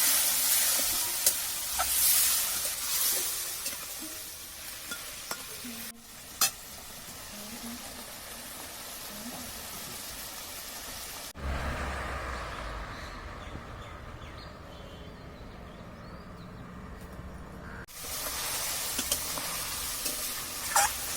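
Kuche fish (freshwater eel) sautéing with spices in a pan gives a steady close sizzle with stirring scrapes, continuing without a break and with no voices.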